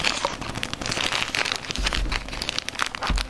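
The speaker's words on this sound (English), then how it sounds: "Mysterious plastic bag." A plastic bag crinkling while a DJI Osmo Action camera is unboxed, with close, irregular crackles and rustles coming in quick, uneven bursts and a few soft thumps of handling.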